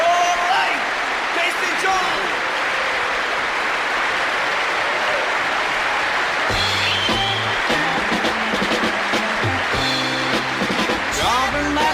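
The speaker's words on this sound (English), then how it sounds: "when you dropped the needle on the LP and immediately heard the sound of crowd noise" Live crowd noise opening a concert LP: a steady wash of audience chatter and cheering fills the first seconds, then band instruments start tuning and playing over the continuing crowd.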